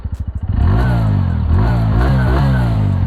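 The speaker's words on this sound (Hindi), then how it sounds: "बाइक को स्टार्ट कर लेता हूँ" A TVS Radeon motorcycle engine cranks with rapid stuttering pulses, then catches and settles into a loud, steady idle with a few light revs, close by.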